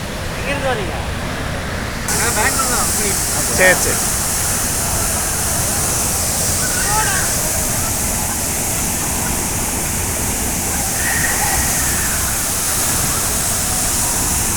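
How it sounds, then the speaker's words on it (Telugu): Steady, loud roar of Tegenungan Waterfall in Bali, Indonesia fills the whole clip, a continuous broadband rush of falling water with faint voices now and then beneath it. "ఇప్పుడు వాటర్ ఫాల్ దగ్గరికి చూడండి"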